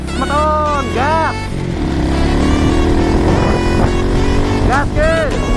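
A motorcycle engine revs and pulls away with a steady rising drone, loud and close, while someone talks over it in bursts.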